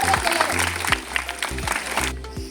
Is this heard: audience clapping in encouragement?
yes